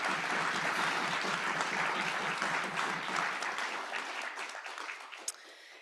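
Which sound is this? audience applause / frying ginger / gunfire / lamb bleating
audience applause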